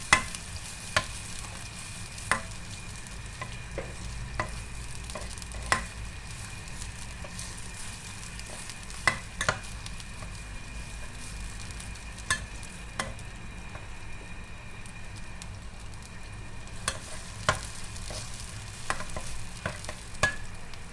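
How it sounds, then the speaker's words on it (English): A blended paste of onion, garlic and ginger sizzles steadily in a pan while a spatula scrapes and knocks against the metal every second or two, close and fairly quiet. "you put it in, and then stir fry it"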